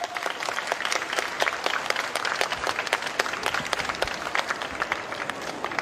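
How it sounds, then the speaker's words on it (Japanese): Brisk outdoor applause from a street crowd at a Japanese election campaign rally in front of a supermarket, with many distinct close claps crackling over a busy, continuous bed of clapping. "もう一度大きな拍手を送ってください。"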